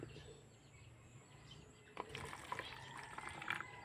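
Water poured into a homemade mosquito-killing mixture, a faint room hush giving way at the midpoint to close splashing and trickling pouring that continues to the end, with no talk.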